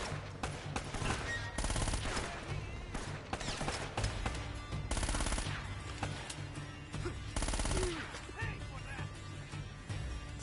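Bursts of Uzi gunfire in the video game Uncharted: Drake's Fortune, loud rapid automatic shots in repeated clusters across the stretch, with a voice talking over the shooting.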